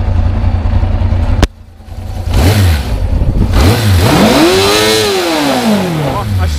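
A 1988 Yamaha XJ600 motorcycle engine idles loudly nearby, cuts briefly, then revs up and down in a rising and falling sweep.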